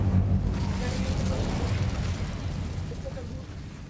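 Incendio fire spell blast in Hogwarts Legacy, a roaring, rumbling burst of flame that swells at once and slowly fades over several seconds, loud and low-heavy with muffled game ambience.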